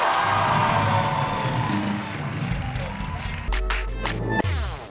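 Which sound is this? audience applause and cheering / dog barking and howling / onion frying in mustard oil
audience applause and cheering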